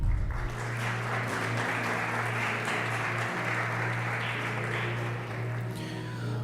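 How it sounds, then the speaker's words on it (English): Audience applause welcoming the timekeepers at a public debate in English, steady clapping held over a constant low electrical hum, fading slightly near the end. "Let's welcome them with a round of applause."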